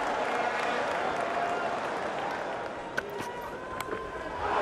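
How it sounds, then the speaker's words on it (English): Crowd applauding at a West Indies versus Australia one-day international cricket final in Barbados, a broad, even wash of clapping from a distant stadium crowd, with a few sharper claps and commentary voices underneath. "The crowd like it a lot."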